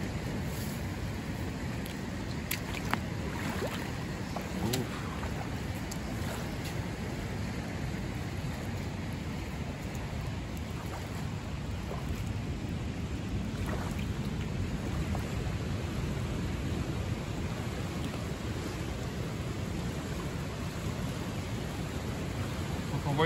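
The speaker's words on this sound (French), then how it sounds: "On voit ici la rivière en crue" A flooded river rushes past in a broad, continuous wash of turbulent water, steady and fairly close with a low rumble underneath and no other sounds standing out.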